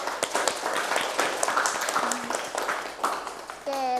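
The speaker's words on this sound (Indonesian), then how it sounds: "berikan tepuk tangan dulu." Students in a classroom give a round of applause, scattered uneven clapping from a small group that fades near the end as a voice begins to speak.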